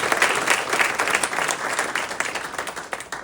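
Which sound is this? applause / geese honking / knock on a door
applause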